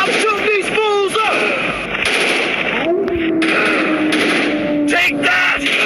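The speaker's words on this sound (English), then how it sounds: "I'm shooting these fools up!" Video game gunfire rattles in loud, rapid bursts that mix with explosive pops, while a voice shouts over the shooting.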